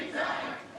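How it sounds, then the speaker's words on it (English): A wrestling arena crowd at a WWE SummerSlam event roars in a dense, sustained wash of many voices, a brief burst of loud massed cheering and chanting. "The crowd here chanting Tiffy time like their life depends on it"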